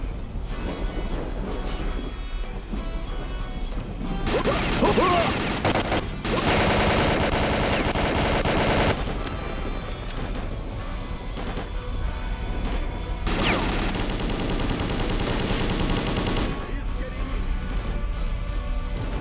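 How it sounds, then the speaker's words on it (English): Gunfire in the S.T.A.L.K.E.R.: Call of Pripyat video game during a night encounter, with several loud bursts of rapid shots over a constant windy ambient rumble. "Wait, who's outside shooting at me now?"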